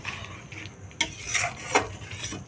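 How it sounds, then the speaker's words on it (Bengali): Masala paste being stirred in a pan over medium heat for a paneer dish: a few distinct scrapes and clinks of a spatula against the metal, with soft background noise between them. "মিডিয়াম আছে কষে নিতে হবে মশলাটাকে"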